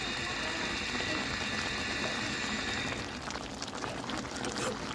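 Tomatoes simmer in a pot for chutney, giving a steady bubbling and hissing wash that stays loud and constant throughout, with a brief scraping stir near the end.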